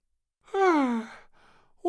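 A sleepy yawn from a little princess at the close of a day at the seaside: one drawn-out, falling breathy tone, followed by a softer trailing exhale.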